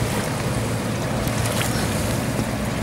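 Sea waves washing around a moving boat at Scorpios, a constant loud rush of water with heavy wind buffeting the microphone, no voices.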